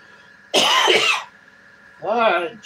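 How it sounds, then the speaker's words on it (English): Someone nearby gives a sudden harsh cough followed by a shorter, rasping throat clear, both loud and close with a quiet pause between. "stop coughing"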